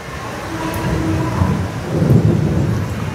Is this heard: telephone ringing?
no